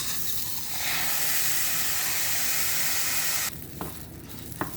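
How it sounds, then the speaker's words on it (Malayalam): Washed rice fries and is stirred in a pan for Kerala-style ariyunda. A loud, close, continuous sizzle cuts off abruptly partway through, leaving a quieter crackle with a few sharp scraping clicks. "ഇനി നമുക്ക് കഴുകി വെച്ചേക്കുന്ന അരി അതിലിട്ട് വറുത്തെടുക്കാം"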